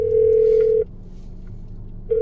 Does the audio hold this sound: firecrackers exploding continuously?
no